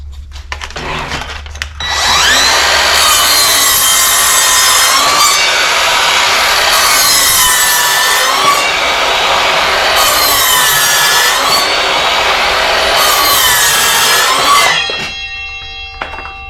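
An Evolution R185SMS-Li cordless 7-1/4 inch sliding miter saw cuts through wood, a loud close high whine with rough rasping that holds for about thirteen seconds before the blade spins down.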